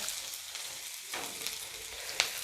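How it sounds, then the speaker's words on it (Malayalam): Shallots sizzle steadily in hot oil, a soft, even frying hiss with faint stirring scrapes and one small tap. "ചെറിയുള്ളി ഒന്ന് മൂത്തോട്ടെ"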